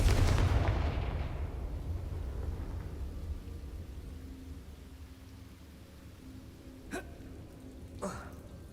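A Confringo blasting spell in the Hogwarts Legacy video game sets off a loud explosive burst that rumbles and fades over several seconds, followed by two short, sharper cracks later on.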